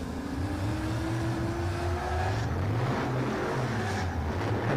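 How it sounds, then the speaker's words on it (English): An HGK BMW E36 drift car cruising around a circuit at an international drift championship, a steady engine hum with a slowly rising tone, heard at a distance under continuous wind-like ambient noise. "looks like he's taking a nice easy drive out and around the circuit in that BMW, that HGK BMW E36"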